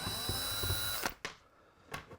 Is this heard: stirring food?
no